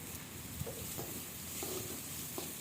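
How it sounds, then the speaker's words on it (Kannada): Mustard seeds, curry leaves, dry chillies and onion fry in hot oil in a pan, a steady soft sizzle with a few light crackles and stirring taps, alone without talk. "ಒಂದು ಬಾಣಲಿಗೆ ಎಣ್ಣೆ ಹಾಕಿ ಅದು ಕಾದಾದ ನಂತರ ಅದಕ್ಕೆ ಸಾಸಿವೆ ಮತ್ತು ಕರಿಬೇವಿನ ಸೊಪ್ಪು ಒಣಮೆಣಸಿನ್ಕಾಯಿ ಈರುಳ್ಳಿ ಹಾಕಿ ಚೆನ್ನಾಗಿ ಫ್ರೈ ಮಾಡ್ಕೊಳ್ಳೋಣ"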